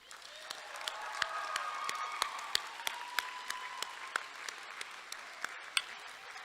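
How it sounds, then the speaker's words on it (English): Graduates at a Rhodes State College commencement ceremony applaud and cheer in a large hall, a fairly distant, sustained roar of clapping with sharper individual claps and a few whoops rising above it. "So graduates, again, give a robust cheer and round of applause for their unconditional support."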